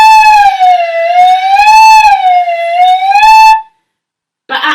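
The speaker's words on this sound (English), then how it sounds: "I blow across that hole like I'm blowing across at the top of a bottle and I make lovely sounds" A flute head joint blown on its own, giving a loud, pure whistling tone that slides slowly up and down in pitch for several seconds, then stops, followed by a brief burst of another sound.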